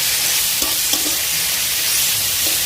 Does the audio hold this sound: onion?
yes